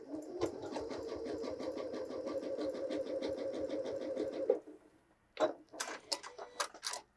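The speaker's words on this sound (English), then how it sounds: "let's check out maximum zigzag" A Janome 6700P sewing machine runs a maximum-width zigzag stitch in a steady, fast rhythmic whir for about four seconds, then stops, followed by a few clicks and handling knocks.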